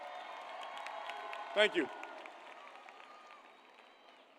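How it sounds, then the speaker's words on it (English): A graduation ceremony audience gives a round of applause, heard as a fairly soft, even spread of clapping. A voice briefly speaks near the middle. "So let's give them one more round of applause."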